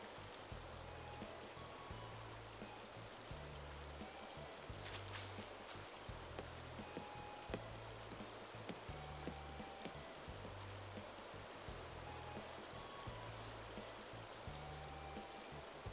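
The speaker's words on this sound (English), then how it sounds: "We have the waterfalls in the back and into the river here." Steady rushing water from waterfalls feeding a river in Animal Crossing: New Horizons, a continuous stream-like wash held at an even level throughout, with soft low game tones pulsing underneath.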